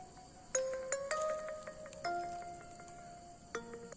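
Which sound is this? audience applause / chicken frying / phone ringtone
phone ringtone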